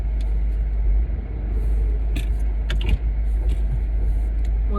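An off-road vehicle starting to drive off, with a steady low engine rumble and a few faint clicks and knocks, no talk.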